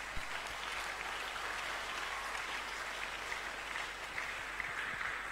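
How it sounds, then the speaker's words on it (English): A church congregation claps in praise, a steady dense wash of applause that runs unbroken throughout at moderate distance, with no voices on top. "let's give God a good clap of praise."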